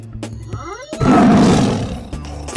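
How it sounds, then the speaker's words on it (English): A tiger in a colourful kids' animal cartoon lets out a loud, rumbling roar that swells and holds for about a second, set against light background music. "Tiger."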